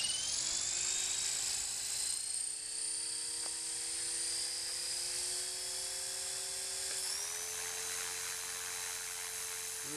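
A Blade 450 3D RC helicopter's rotor spins steadily at close range, a high sustained whine with a droning hum beneath, shifting up in pitch partway through as the throttle changes, with no talk.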